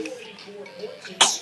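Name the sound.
sneeze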